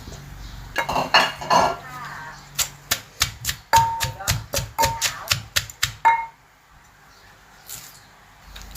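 A rapid series of sharp wooden knocks, a pestle pounding papaya strands in a mortar for Thai papaya salad, steady and close, then it stops and the room goes quiet.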